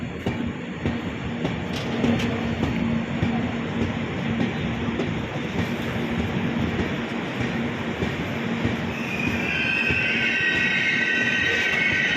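A train pulls into Payyanur railway station with a steady, loud rumble of rolling wagons, faint rhythmic clatter of wheels, and a thin high squeal of brakes rising near the end.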